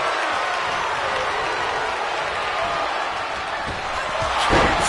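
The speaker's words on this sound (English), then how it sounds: "Just listen to this crowd. Every one of them is on their feet." A WWE 2K26 wrestling video game crowd roars and cheers in a continuous, dense wash of noise, swelling slightly near the end.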